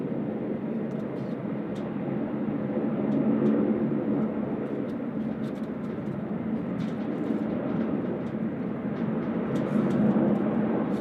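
An airliner takes off from Sydney Airport in high wind, a steady broad engine roar heard from a distance, with faint clicks and crackles over it.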